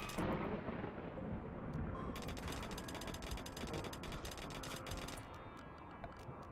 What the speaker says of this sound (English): dry thunderstorms suck. It's just lightning.